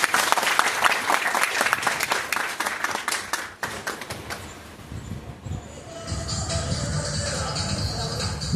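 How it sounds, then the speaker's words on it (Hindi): An audience applauds at a live talk, with loud, dense clapping for about three seconds that thins out and fades into quieter room noise. "तब तक एक बार तो ताली बजा सकते हैं आप लोग।"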